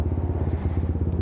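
A Yamaha Nmax 232cc scooter fitted with an M3 dual tip exhaust and 38mm elbow, idling or cruising at night: a close, low, throbbing engine pulse with a steady rapid rhythm.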